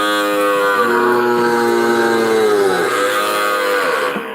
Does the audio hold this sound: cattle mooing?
yes